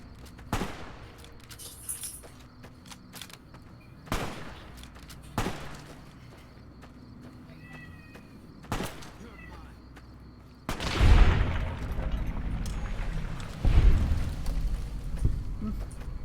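Gunshots in the video game Fallout: New Vegas ring out as sharp isolated cracks spaced seconds apart, followed by heavier rumbling blasts, all under a faint background of game ambience.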